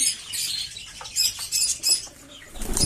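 Pigeons flap their wings as they come down into a loft during hand feeding, quick bursts of fluttering that rise and fall close by over a quiet background.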